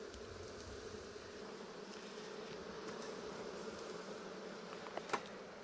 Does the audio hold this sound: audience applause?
no